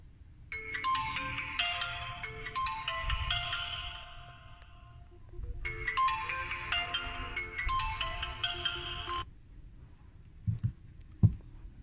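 An Oppo A37 phone plays its ringtone during a remote sound test, two bright melodic bursts separated by a short pause, followed by a few soft clicks and taps at the end.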